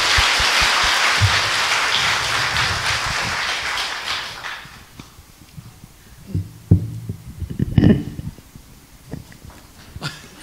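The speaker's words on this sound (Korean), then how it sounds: "여러분 다시 한번 큰 박수로." An audience at a concert in Gwangju claps loudly and densely, then the applause fades within a few seconds into quieter room sounds and scattered low thumps.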